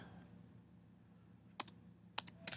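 Short bursts of clicky keystrokes on a computer keyboard, quiet and close, come in two small clusters after a stretch of near silence in a room.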